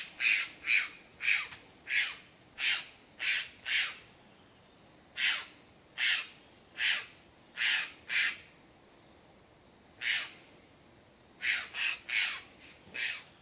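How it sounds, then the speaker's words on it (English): Several Costa Rican birds resembling blue jays near river pools and falls give harsh, repeated squawking calls, loud and close, in rhythmic bursts of two to four with short pauses, over quiet background. "4 of those birds, and I was surprised in Canada they have birds called blue jays, and those look exactly like blue jays"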